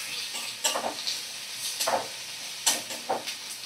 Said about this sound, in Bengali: তো পেঁয়াজটাকে আমি ভালো করে ভাজা করে নেব